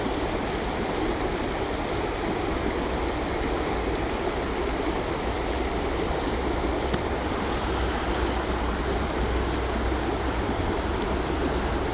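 River flowing past a woodland spot, a constant, full rushing and babbling of water that stays even and fairly close throughout, with no voices.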